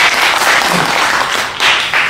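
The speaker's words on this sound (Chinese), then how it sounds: "感谢您的掌声，当然了，您这个掌声再热烈一点会更好的啊！" A small audience at a Deyun Society crosstalk theatre claps loudly in a dense, continuous ovation for a solo crosstalk performance, briefly dipping and then swelling again.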